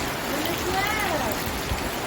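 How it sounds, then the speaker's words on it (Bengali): Heavy afternoon rain pours down after a hot, sunny spell, a steady close hiss of falling water with a faint voice murmuring underneath. "খুব জোরে বৃষ্টিটা এসছে"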